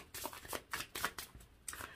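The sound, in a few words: shuffling tarot cards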